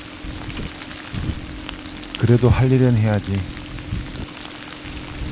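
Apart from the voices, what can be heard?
steady rain falling outside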